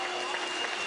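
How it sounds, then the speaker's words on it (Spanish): Audience applause at an Alcoholics Anonymous international congress in Mexico: a short, dense burst of many hands clapping, steady and even across the moment. "Un aplauso."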